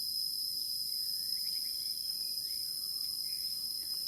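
Crickets chirp in a forest, a dense steady high-pitched trill that runs unbroken throughout, with faint distant bird calls and soft background rustle beneath.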